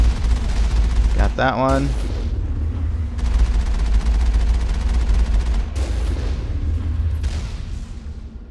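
Weapon fire in the Mass Effect video game, with heavy booming shots and rolling, rumbling blasts over a dense low drone, close and loud, while someone speaks briefly over them.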